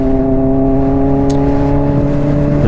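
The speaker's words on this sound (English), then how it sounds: "The engine braking is so, look at that, it's so harsh." Honda CBR600RR motorcycle engine on the overrun under harsh engine braking, a steady loud mechanical drone with strong tonal whine held throughout, close and continuous with no talk.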